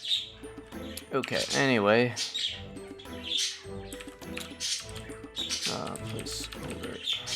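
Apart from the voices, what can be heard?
pet birds screaming and chirping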